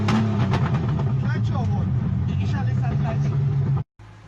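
A Lexus V8 swapped into an old rusty van rumbles along on the road, its engine note steady under continuous talking and ending with a brief cut.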